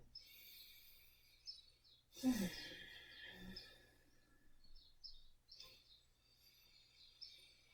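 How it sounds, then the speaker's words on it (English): Faint birds chirp and sing in the distance, scattered short calls over a quiet room, with a soft sigh of breath partway through. "I hear birds outside."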